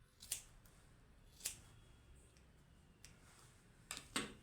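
Scissors snipping hair straight across during a home haircut, a handful of crisp separate cuts spaced irregularly over near silence, quiet and close with no voices.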